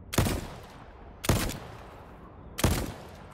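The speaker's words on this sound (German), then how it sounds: "Ich wollte eigentlich mal ausprobieren zu schießen." Three separate gunshots from a weapon in the game Voidtrain, each a sharp loud crack followed by a short decay, spaced about a second and a half apart with quiet between.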